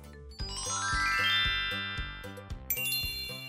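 A bicycle bell dings in a quick bright series of metallic rings, set over a steady rhythmic musical backing with a deep pulsing beat.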